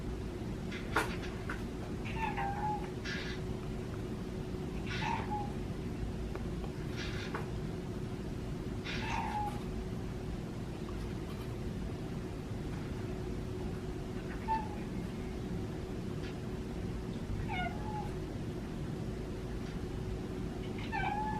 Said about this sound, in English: I still hear him meowing from the other side of the house.